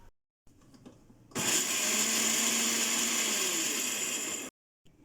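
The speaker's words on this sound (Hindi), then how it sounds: "इसको मिक्सी के जार में जो है वो ब्लेंड कर लेंगे।" A mixer grinder whirs loudly for about three seconds, blending dry-roasted masala in its jar, starting abruptly after a few soft clicks and stopping sharply.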